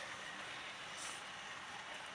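A British Railways 8F steam locomotive runs with a steady, smooth broadband rush and rumble, continuous and moderately loud without distinct beats, with no voices.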